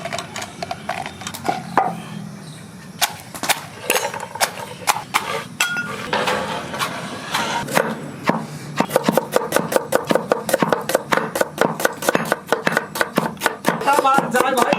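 A knife chops onion on a board in a village-style kitchen, cutting close and loud. Irregular scraping strokes come first, then a fast, steady run of sharp chops.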